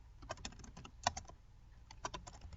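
Someone types an email on a computer keyboard, with soft, close keystrokes clicking in uneven clusters and one sharper key press standing out.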